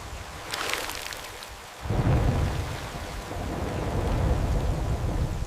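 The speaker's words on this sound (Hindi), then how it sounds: "तेज बारिश शुरू हो गई" Heavy rain pours steadily while a deep rumble of thunder breaks in partway through, loud and close, with no voices.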